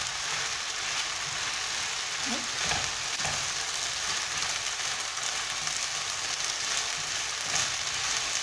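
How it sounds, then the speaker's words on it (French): Yellow rice being stirred with onions in a pan, giving a steady close sizzle with soft scraping and stirring noises throughout. "On mélange bien avec les oignons."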